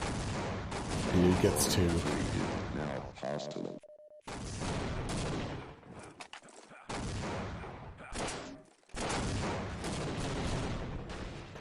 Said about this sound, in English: I hear a lot of shooting towards 2.